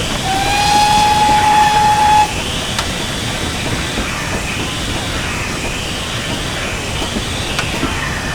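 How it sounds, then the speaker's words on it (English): A GWR 7800 class steam locomotive sounds its whistle on the approach to a station, a steady loud tone for about two seconds over constant hiss and rumble, which continue after the whistle stops. "Sound the whistle as we approach the station."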